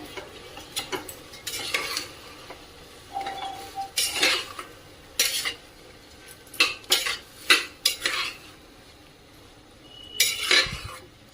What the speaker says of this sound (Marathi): तांदूळ व्यवस्थित परतून घेऊया।